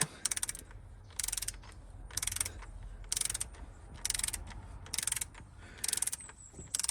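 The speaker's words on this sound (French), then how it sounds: "je prends ma clé dynamo et je mets 8 Nm. Voilà, on passe au serrage" A torque wrench tightening the valve cover bolts on a BMW E46 M54 engine, giving short bursts of rapid ratchet clicks repeating at a steady rhythm, close and clear with no talk.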